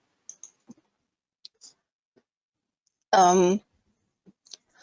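Mouse clicks in the RFEM 6 engineering software, a few faint, sparse clicks scattered across the stretch, with a single short spoken word in the middle.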